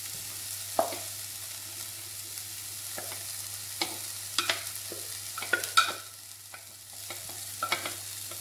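Vegetables sautéing with onions in a pan for stir-fried Asian noodles, a soft steady sizzle with scattered scraping stirs and clinks of a utensil against the pan, fairly quiet and close.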